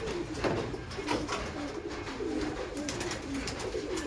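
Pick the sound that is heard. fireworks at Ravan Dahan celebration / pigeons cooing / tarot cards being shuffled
pigeons cooing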